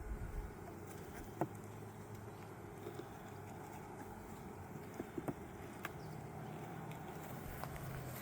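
Honeybees buzz in an opened hive during an Apiguard treatment, a quiet, steady drone with faint scattered taps and knocks over it.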